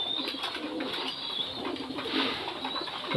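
Homa and Grizzle pigeons coo in a low, soft, continuous murmur, close by, with some brighter chirping layered over it and no voices.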